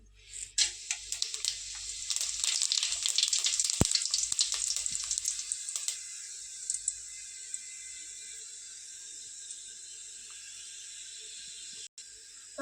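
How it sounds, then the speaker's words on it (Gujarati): Whole spices dropped into hot oil for tempering a chicken curry burst into a loud crackling sizzle that gradually settles into a softer, steady hiss. "તેલ થઈ ગયું છે તો હવે નાખી દેશે આપણે વઘાર માટેનું મસાલું ખડા મસાલા નાખી દેશી"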